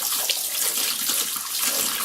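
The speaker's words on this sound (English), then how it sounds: "Then take some water, and you'll wash it." Water runs steadily from a tap while a string of faith beads is washed, giving a loud, close, continuous hiss and splash with no talking.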